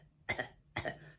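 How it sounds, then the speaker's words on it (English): An elderly woman with a chest infection coughs twice, two short separate bursts heard close up in a quiet room, with no talking. "And ask her to cough."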